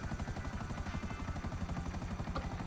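A helicopter in a combat video game set at a beach, its rotor thumping in a fast steady pulse, loud and continuous without speech.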